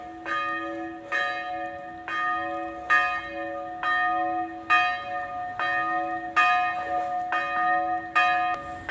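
A neodymium magnet striking a piece of cast iron pipe outdoors, giving about ten bright, bell-like metallic rings at a fairly even rhythm, each sustaining and overlapping the next, close and with no talking.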